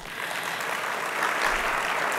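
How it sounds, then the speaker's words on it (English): A conference audience at the SAJBD 2022 Gauteng gathering applauds students, a steady even wash of clapping that holds at moderate volume throughout with no talking over it. "I think that also deserves a clap."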